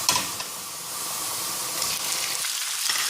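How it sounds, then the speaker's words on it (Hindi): Chicken frying in a pan with golden onions, a constant bright sizzle close up with a few faint stirring knocks, no talking. "थोड़ी देर चिकन को मैं भूनूंगी"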